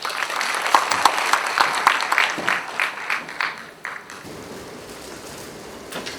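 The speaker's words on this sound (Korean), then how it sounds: "박수로 맞이해 주십시오" An audience at an apartment reconstruction briefing claps to welcome a speaker, a burst of many hands that thins into scattered claps and fades out after about four seconds.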